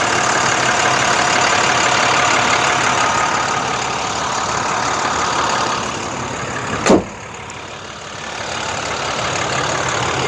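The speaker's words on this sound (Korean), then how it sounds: "아주 그냥 엔진이 힘차게 잘 들어가네요" The diesel engine of a 2012 Hyundai Green City 28-seat bus idles with a steady, loud rumble, air conditioning running. A single sharp click comes near the end, and the rumble continues slightly quieter.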